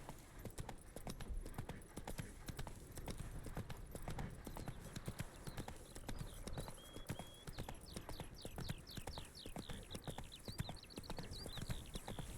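Hooves of Roach, the horse in The Witcher 3, gallop in a fast, steady clip-clop throughout, nearby and continuous, with faint chirping in the background partway through.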